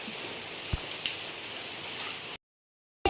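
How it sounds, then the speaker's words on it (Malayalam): Heavy rain falls as a steady, dense hiss with occasional sharper drops and knocks, cutting to silence near the end before resuming briefly. "എന്തേരം മഴയാണ് ഗൈസ് ആ മഴയത്ത് ബസ്സിന് പോകണമെന്നെല്ലാം ഉണ്ട്"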